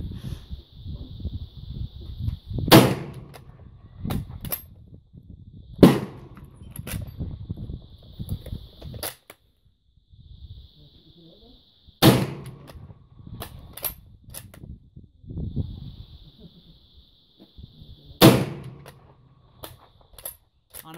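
Rifle shots fired during a ten-shot service rifle challenge, five sharp loud cracks spaced a few seconds apart, with quiet mechanical handling and faint movement between them and a steady high tone in the background.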